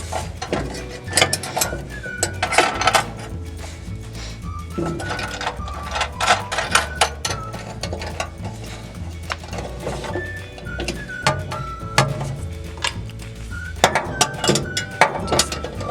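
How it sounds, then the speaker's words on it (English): A 10mm socket unscrews a small screw on the back plate of a towel steamer, with repeated close ratcheting clicks and metallic rattles in irregular bursts and no speech. "using a 10mm socket, we're just simply going to unscrew that little screw so we can remove the plate"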